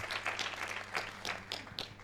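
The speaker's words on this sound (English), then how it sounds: "Clap your hands." Congregation at a church service clapping hands, a steady run of sharp claps repeating roughly every quarter second over a low hum, fairly faint and at a distance, with no voices on top.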